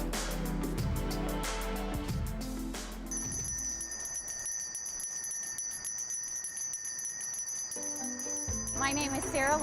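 Hand bell rung for a Salvation Army charity collection, clanging repeatedly with a ringing tone over steady background noise and a voice briefly near the end.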